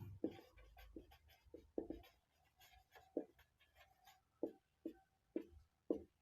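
Pen writing on paper in a math class, a series of soft scratchy strokes in an irregular rhythm, close but faint and alone.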